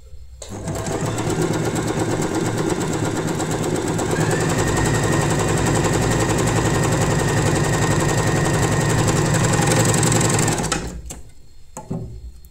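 An Usha Janome Wonder Stitch sewing machine runs a long, steady stitching pass, a loud, close, fast mechanical rattle that holds for about ten seconds and then stops, leaving near silence.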